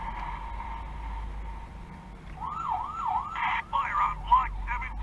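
A toy fire engine's electronic siren wails in rising and falling sweeps, then switches to rapid yelping tones, fairly close against outdoor street noise in London.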